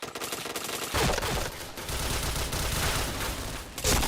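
Rapid gunfire bursts in a shooting video game, loud, dense and continuous across the moment, with sharper volleys at the start and end.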